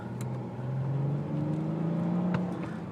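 Mercedes-Benz C350 sport sedan of a little over 4,000 pounds accelerating in first gear in sport mode, engine note rising steadily in pitch, close and moderately loud from inside the car.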